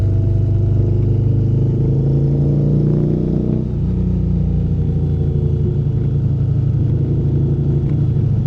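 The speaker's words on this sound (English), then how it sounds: "This is a pretty loud bike, but it sounds so good" An Indian motorcycle engine runs loud and close with a deep steady rumble, briefly shifting pitch midway as the revs change, then settling back to a constant throaty idle.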